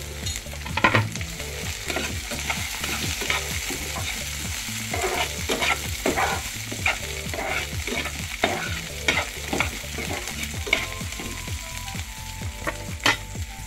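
Crushed garlic cloves fry in a pan with a steady, dense sizzle, broken by repeated scraping stirs and soft clinks of a spoon, close and alone.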